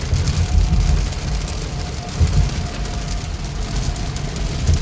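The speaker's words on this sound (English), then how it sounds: "Another rainy day in Houston, Texas." Steady rain falls on a rainy day in Houston, Texas, a continuous broadband hiss with a low rumbling undertone, constant and fairly loud throughout with no voices.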